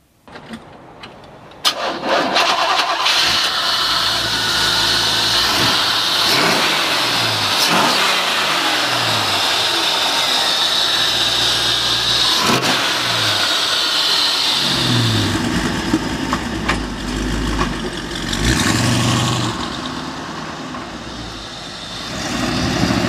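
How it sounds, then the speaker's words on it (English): A 1957 Chevy Bel Air convertible starts up outdoors, then idles and revs repeatedly in loud, close bursts, settling into a lower rumble near the end. "Let's take this 57 Chev convertible for a drive."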